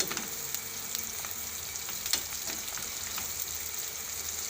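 Capsicum sizzles and crackles in hot oil in a home kitchen pan, a steady quiet frying hiss with scattered pops and no talking.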